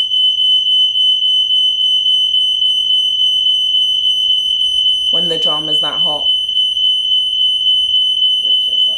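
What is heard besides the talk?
fire alarm going off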